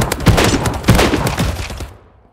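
Rapid gunshots in a video game firefight crack and thud in quick succession, loud and close, then cut off abruptly into silence.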